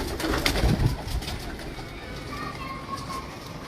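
Pet pigeons coo softly in a low, rounded murmur, close by, with faint children's voices and other background chatter mixed underneath.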